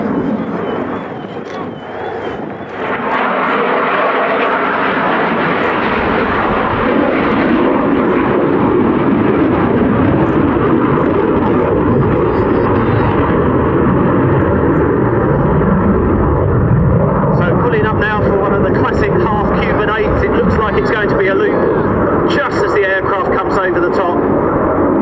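A display aircraft performs aerobatic manoeuvres at the RAF Cosford Airshow, its loud engine roar sustained and swelling as it pulls through the sky, with a voice talking underneath.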